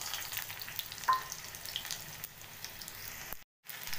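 Onion frying in mustard oil in a pan, a soft continuous sizzle and crackle at low level, with a brief dropout near the end.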